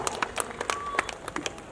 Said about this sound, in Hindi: एक बार जोरदार तालियों मित्रों.